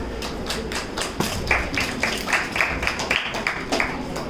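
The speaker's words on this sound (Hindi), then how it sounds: "तो एक बार पुनः तालियों से स्वागत करते हैं हमारे सभी निर्णायक गणों का।" An audience at a school talent showcase claps to welcome the panel of judges, producing dense, sustained applause with scattered sharper taps, moderately loud and continuous with no voices.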